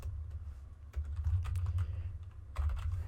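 Computer keyboard typed on while writing Python code, a short run of quiet, close key clicks over a low background hum.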